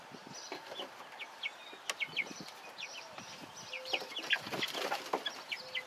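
Cornish Cross chicks cluck and chatter in short bursts in a coop built from pallets, with sharp calls scattered throughout and steady background rustle, moderately close.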